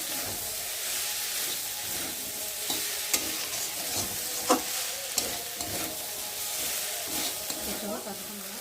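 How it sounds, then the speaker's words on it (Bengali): A spice paste with garlic fries in oil alongside potatoes while a spatula stirs it, a continuous close sizzle punctuated by sharp scraping clicks at irregular intervals. "ভালো করে আলুর সাথে কষিয়ে নেবো মশলাটা"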